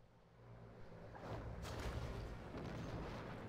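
Cannon-like bombardment from a city firing on another city in Civilization V, a low rumbling boom that swells after a second and holds as a dense, loud roar with crackling bursts, no voices.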